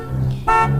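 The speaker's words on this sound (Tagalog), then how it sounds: "Oy, may sakyanan nga na sigig busina." A car horn honks once in a short, loud, close blast, with an engine hum running underneath.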